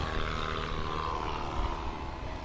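A light sport aircraft departs at a Husky National STOL Series event at Sun 'n Fun's Paradise City, its engine a steady, moderately distant droning roar that holds evenly for a couple of seconds without voices.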